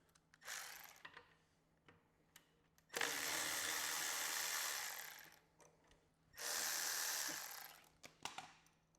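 Two long bursts of a power tool, likely an impact driver or ratchet, spinning out 13 mm bolts from a Harley muffler, close and loud, separated by quiet gaps with small clicks and handling noises.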